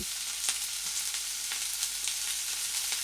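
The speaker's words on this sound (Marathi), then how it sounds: "आपल्याला मसाला असा छान भाजून घ्यायचा आहे" Black masala roasts in oil in a pan for a drumstick curry, giving a continuous close-up crackling sizzle with faint stirring ticks.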